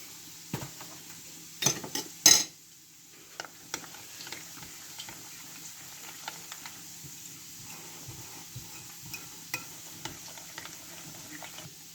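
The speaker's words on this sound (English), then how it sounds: "Can we give that a whisk, please?" Egg pancake batter with corn flour is whisked in a bowl, giving faint, quick, irregular ticking taps against the side, with a few louder clinks early on and no talk.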